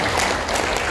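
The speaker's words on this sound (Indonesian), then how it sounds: "Tepuk tangan semua." Audience applause at an Islamic sermon, a dense steady clapping filling the whole second at close range with no talk over it.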